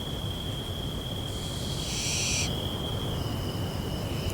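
A barn owl chick gives a harsh, hissing screech that rises for about a second, over a steady high insect-like drone and faint background noise.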